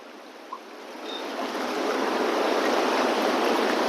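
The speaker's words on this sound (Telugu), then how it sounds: "ఇక్కడ వాటర్ అయితే బాగా టూ మచ్గా ఉంది" Rushing mountain stream flowing over rocks in Nepal, a broad, steady roar that swells louder as it comes closer, with no voices.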